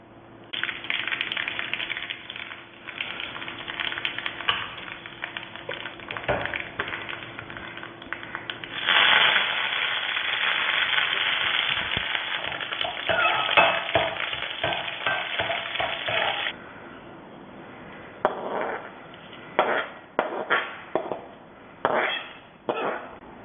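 Mustard seeds and dried chilies tempering in hot oil for a raw mango kichadi give a steady loud sizzle and crackle, surging stronger midway, then fading into sparse pops and stirring clinks near the end.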